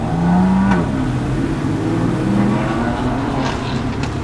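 The air-cooled 3.6-litre turbo engine of a Porsche 964 Turbo is revved hard at full throttle, giving a loud, continuous, close-up roar with rising pitch and a few brief crackles, and no talking.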